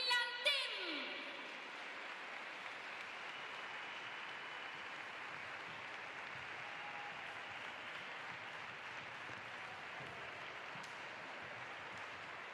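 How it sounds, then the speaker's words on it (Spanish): Arena crowd applauding the Finland team at an international women's handball match, steady moderate clapping that follows a brief announcer tone at the start and carries on evenly. "A big applause to Finland team."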